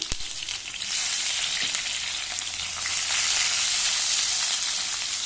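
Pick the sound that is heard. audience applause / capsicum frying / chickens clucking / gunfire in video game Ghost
capsicum frying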